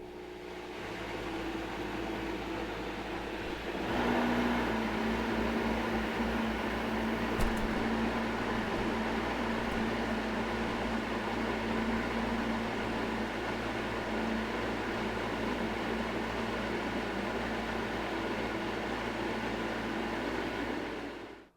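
A Vitamix blender runs continuously for about twenty seconds, its steady whir jumping louder a few seconds in and holding a dense, even roar as the speed climbs from 1 to 5 while blending low-fat pumpkin pie filling; no one speaks.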